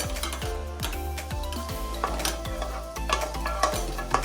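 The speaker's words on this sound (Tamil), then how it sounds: "இந்த ரைசன்ஸ் அப்புறமா கேஷ்யூ நட்டை வந்து நல்லா வந்து இந்த கீயில் ரோஸ்ட் பண்ணிவிட்டு" Raisins and cashews roast in ghee for rava kesari, a steady crackling sizzle broken by repeated scraping taps of a spoon stirring against the pan, close and without talk.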